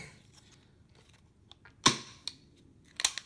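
An AR trigger dry-fired in a foam-filled trigger jig, producing two sharp clicking snaps with a faint thud, separated by about a second amid quiet handling sounds.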